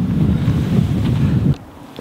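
Strong wind buffets the microphone on an open golf course, a loud, steady rushing roar that cuts off abruptly near the end.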